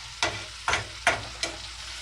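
A beef steak frying in a pan over a low flame, with a steady quiet sizzle broken by four evenly spaced scraping or turning sounds, close and without talk.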